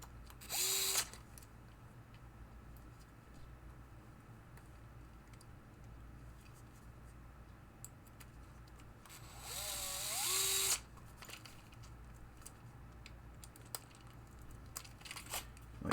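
A power screwdriver drives screws into a 1973 Williams Triple Action pinball playfield, giving two short whirring bursts about ten seconds apart, the second longer and rising, over a quiet room hum with small handling clicks.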